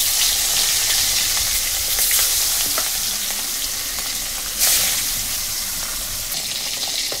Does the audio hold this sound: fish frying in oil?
yes